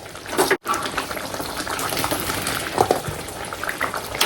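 Okra simmers in a tamarind curry with eggs in a pan, giving a loud, steady bubbling and sizzling hiss that drops out briefly near the start and then carries on without voices.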